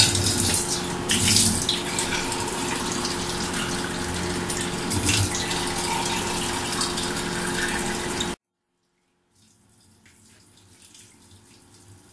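Water gushes steadily from a tap or jug into a cooking pot of chicken haleem for several seconds, then stops abruptly, leaving faint kitchen sounds.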